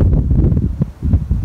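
Strong wind blows outdoors under a darkening, cloudy sky, a loud, steady rumbling roar battering the microphone in continuous gusts with no talk.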